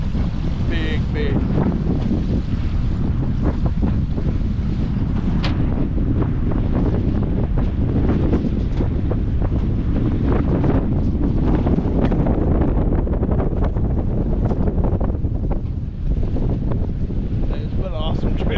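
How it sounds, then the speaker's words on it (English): Strong wind buffets the microphone on a fishing boat out on the Tennessee River, a loud continuous roaring rumble with water splashing against the hull underneath, steady throughout with no let-up. "It's kind of windy and stuff, getting rough now."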